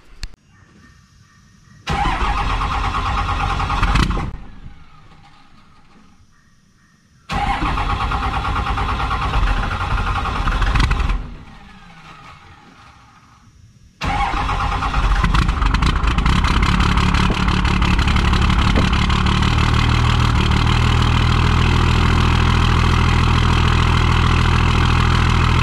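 A diesel engine fitted with a new fuel filter kit cranks and catches in two short bursts that die off, then fires on a third try and settles into a loud, steady idle close by.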